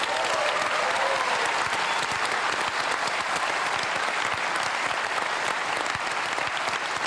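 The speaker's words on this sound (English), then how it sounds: "You can give yourselves a quick round of applause." A Melbourne studio audience at a televised panel discussion gives a steady, dense round of applause, many hands clapping together close and loud throughout with no break.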